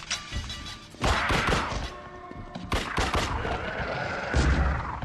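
Shotgun blasts ring out in a fight in The Suffering: Ties That Bind, several loud close bangs and crashing impacts in quick irregular succession.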